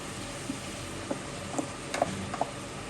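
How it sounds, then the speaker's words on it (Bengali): A paste of ginger, tamarind, green chilli and turmeric is poured into a pan for an Aila fish curry, giving a faint sizzle with a few soft, scattered clicks and taps. "এটা আমি সবগুলো একসাথে পেস্ট করে নিয়েছিলাম। তো এখানে এখন এটাকে আমি ঢেলে দেবো।"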